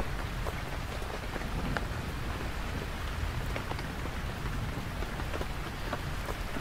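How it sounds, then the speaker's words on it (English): Steady rain patters on a camping tent, a dense continuous hiss and drumming close by with a faint low rumble of distant thunder beneath it. "You're scared of the thunder."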